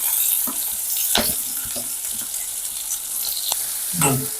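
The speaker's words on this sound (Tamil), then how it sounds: "எண்ணெய் வந்து நல்லா சூடாகிட்டு நாங்கள் இப்போ வெட்டி வச்ச வெங்காயத்தை போடுவோம்" Chopped onions fry in hot oil for potato cutlets, giving a bright, close sizzle broken by a few sharp crackles and spoon scrapes, with no voices.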